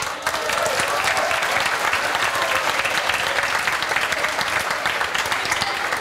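An audience applauding at a talk on a woman's education, with dense, loud clapping that holds steady and continuous for several seconds.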